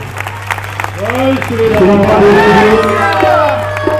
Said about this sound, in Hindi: एक बार जोर से सब लोग ताली बजाकर उनका स्वागत करें।